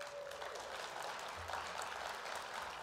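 Audience at the Code4Lib 2018 library technology conference clapping in a steady wash of applause, faint and somewhat distant across the hall.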